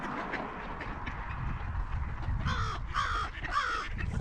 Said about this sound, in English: see, the crow is crowing.